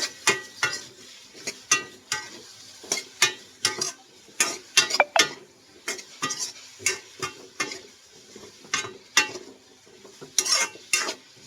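Shrimp ginataan with vegetables is stirred in a pot, giving a steady run of sharp utensil clinks and scrapes against the metal over a soft background sizzle, with no talking.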